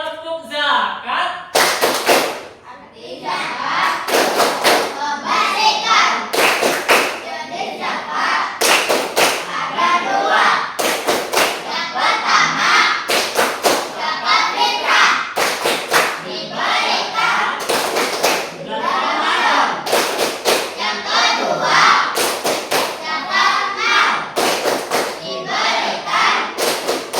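A classroom of children performs a rhythmic clapping chant in unison, sharp claps repeating in a steady pattern for the whole stretch, loud and close, with young voices chanting along between the beats.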